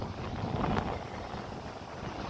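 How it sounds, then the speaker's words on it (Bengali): Strong wind roars steadily against the microphone, a dense broadband rush that swells briefly before settling into a constant buffeting. "মানে প্রচন্ড হাওয়া দিচ্ছে গাইস, প্রচন্ড হাওয়া দিচ্ছে"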